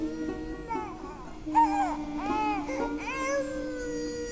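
An infant cries in rising, wavering wails, fairly close, over a steady low background hum.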